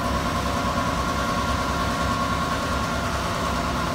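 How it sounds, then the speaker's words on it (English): A Carrier air handler with no belt guard runs in an old supermarket in Tucson, Arizona, giving off a steady, unbroken droning hum and airy rush at constant loudness. "Carrier air handler."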